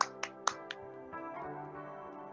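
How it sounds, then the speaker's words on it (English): Several sharp hand claps, about four in quick succession at the start, during a qigong exercise, followed by a low sustained background tone. "Clap the palms together."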